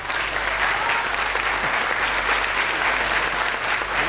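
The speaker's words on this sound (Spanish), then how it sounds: "Le brindamos nuevamente un cálido aplauso a Jorge Lazzarini." Warm, steady applause from the audience at a national technical and vocational education congress, dense clapping that continues evenly throughout without speech.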